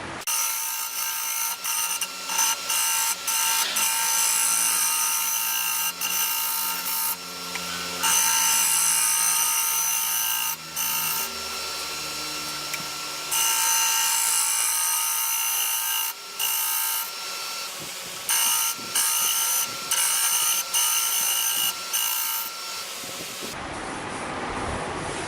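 Wood lathe turning a striped wooden platter while a tool cuts the back side, a loud continuous scraping hiss in repeated passes with brief pauses, close and without talk.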